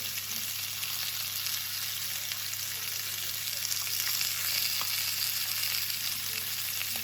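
A steak about one centimetre thick sizzles steadily in a hot pan, a close, constant frying hiss with faint crackles and a low background hum, no talking.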